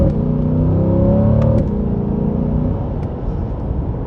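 A 2020 C8 Chevrolet Corvette accelerating hard after a downshift, the engine's rising harmonic drone loud and close, climbing briefly before settling into a steady lower hum.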